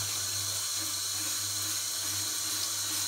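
Tap water runs steadily into a sink while rinsing paint stripper off a surface, a continuous close hiss and splash with a low pump-like hum underneath and no talking.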